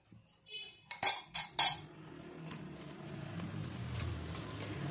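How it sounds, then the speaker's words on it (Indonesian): A spoon clinks and scrapes against a bowl while cocoa powder, powdered sugar and a pinch of salt are mixed for crinkle cookies; a few sharp clinks come first, then softer continuous stirring. "Aduk agar benar-benar rata."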